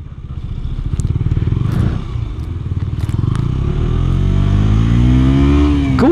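A KTM Duke 125 motorcycle engine holds a steady, loud note throughout, with a rough throbbing idle at first that then rises and climbs in pitch as it revs. The rider stays silent.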